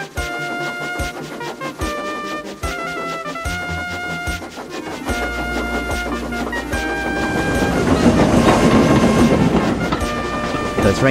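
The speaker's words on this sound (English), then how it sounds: "The train kept going faster and faster, much too fast for little Thomas." An animated steam engine in Thomas the Tank Engine runs along rails at rising speed, with rhythmic clickety-clack and clanking that build and thicken under music toward the end.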